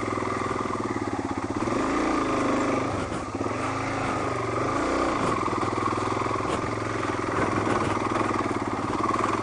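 Motorbike engine labouring up a hill, a loud, steady, close rattling drone with slight pitch wobbles throughout, no voices over it.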